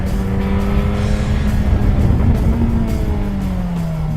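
Yamaha FZ8 motorcycle engine pulling hard under acceleration while riding, a steady loud drone with a rising tonal whine and wind rush throughout, no voices.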